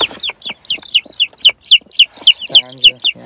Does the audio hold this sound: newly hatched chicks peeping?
yes